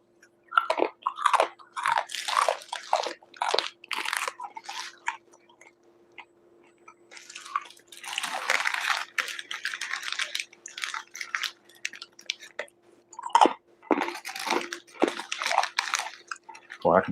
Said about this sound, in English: I got some corn nuts in here too, y'all, in case y'all want to hear some crunch for a little bit